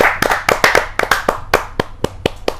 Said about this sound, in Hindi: जोरदार ताली के साथ एक बार